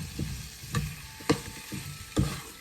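Tomato, okra, mango and saijan (drumstick) pieces stirred in a pot of Guyanese snapper curry, a soft steady sizzle under several muffled scraping knocks of the spoon, close and fairly quiet.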